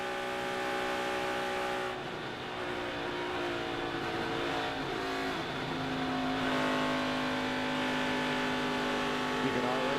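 An ARCA stock car races on the Michigan oval, its engine droning loudly and steadily with a harmonic whine that swells and shifts as it passes, close and continuous throughout.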